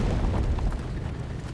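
A heavy, rumbling blast from a bomber wave rolls through a World War II video game battle in the Hurtgen forest, a dense low roar that stays loud and continuous before easing slightly.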